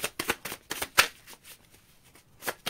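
Tarot cards riffled and shuffled by hand in a few quick bursts of papery flutter, with a crisp snap near the middle and short pauses between, close and fairly quiet with no talk.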